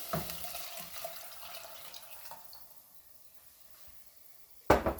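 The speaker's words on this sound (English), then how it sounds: "Going to add our water." Water runs and splashes softly into a cooking pot of lentils for a couple of seconds, then fades, followed by a brief clatter near the end.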